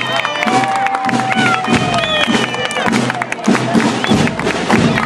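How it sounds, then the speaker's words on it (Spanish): Loud applause and cheering from a crowd salute a sixth-grade class marching in a school anniversary parade, sustained clapping mixed with shouts and an announcer's amplified voice. "¡Fuertes palmas para el 6º grado C!"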